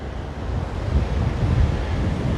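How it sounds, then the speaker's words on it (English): Wind gusting over choppy surf at Waimanalo Beach, Hawaii, a steady broad roar of breaking waves and microphone wind buffeting throughout, fairly loud and with no voices. "It is a little choppy with the wind, with the water,"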